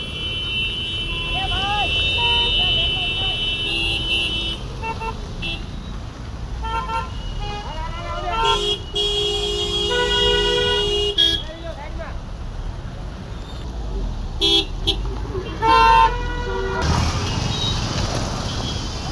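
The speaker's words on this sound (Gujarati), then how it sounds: "ફૂલ ટ્રાફિક જામ જો" Heavy road traffic jam on a town street during monsoon rain, with repeated car and bus horns tooting in short bursts close by over steady engine rumble, while people talk throughout.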